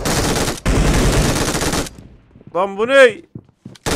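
Bursts of machine gun fire in the shooter PUBG Mobile rattle loudly and rapidly, then cut off before someone speaks briefly in Turkish.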